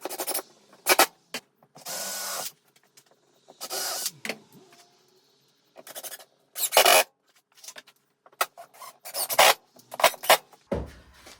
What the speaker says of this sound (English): As always, a little bit of sandpaper just to remove the rough edges.